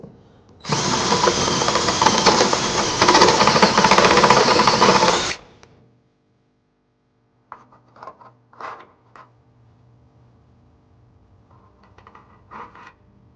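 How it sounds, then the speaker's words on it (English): Step drill bit widening a hole in the frame of a 2014 Nissan Sentra, a loud whining grind for about five seconds, then silence followed by a few short clanks and taps. "So we're going to go ahead and take a step bit and widen that up."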